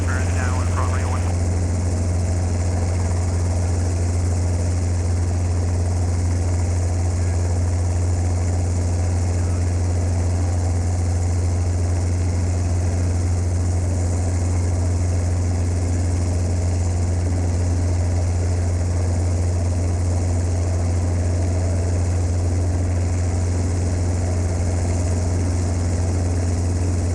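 A training helicopter drones steadily in flight, its engine and rotor forming a constant loud, low hum heard from inside the cabin, with no breaks throughout.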